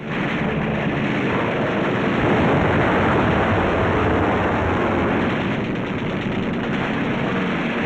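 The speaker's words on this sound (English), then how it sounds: "Strafing ships filled with TNT is not very healthy for pilots who dive too low." WWII aircraft strafe ships with machine gun fire, a loud, dense, unbroken roar of rapid shots and engine noise lasting throughout.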